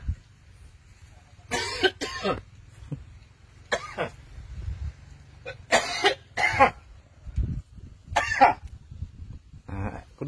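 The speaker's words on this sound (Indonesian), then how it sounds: "Kudu batuk gitu." A person coughs in several sharp, separate bursts spaced a second or two apart, close by, over a low background rumble.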